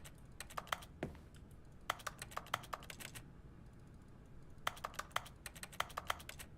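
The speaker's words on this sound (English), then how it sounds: "These bottles of wine also sound very much like keyboards" Wine bottles clinking in the Stanley Parable: Ultra Deluxe game, sounding like keyboard typing, with quick bursts of crisp clicks separated by short pauses, close and clear over a low background hum.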